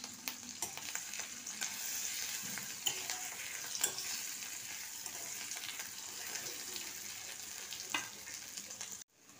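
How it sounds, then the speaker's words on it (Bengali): Ginger and green chilli sizzle and crackle steadily in hot oil in a pan, with occasional stirring clicks and scrapes, fairly close and without speech. "তেলটা একটু গরম হলে আমি দিয়ে দেবো আদা আর কাঁচা লঙ্কাটা।"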